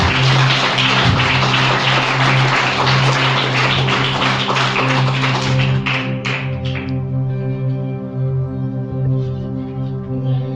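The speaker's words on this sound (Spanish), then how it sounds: "Podemos darle un aplauso fuerte a Jesús." Loud, sustained applause from a church congregation honoring Jesus, dense crowd clapping over steady organ or keyboard tones, thinning out after about seven seconds while the sustained music continues.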